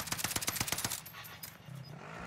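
A rapid automatic burst of about nine quick shots opens a Warzone firefight on Caldera, loud and close, then falls off to a quieter background with a few distant pops.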